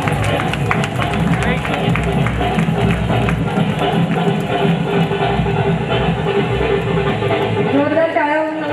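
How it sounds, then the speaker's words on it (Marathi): Loud applause and cheering fill a women's community gathering of the Agri Samaj in Mira-Bhayandar, a dense crowd roar with clapping running unbroken throughout, welcoming Kaki. "जोरदार टाळ्या होत आहेत काकीसाठी"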